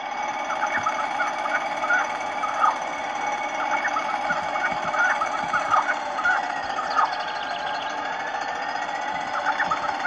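Chickens in the John Deere Drive Green farm video game cluck in a steady flock chorus of repeated chirpy calls over an even background hum.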